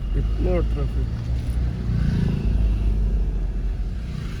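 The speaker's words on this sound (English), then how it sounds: "This road is kind of a jammed today for some reason. So much of traffic." Jammed traffic on a busy road in Baramulla, Kashmir: a continuous low rumble of passing cars and motorbikes with a brief voice early on, steady and close throughout.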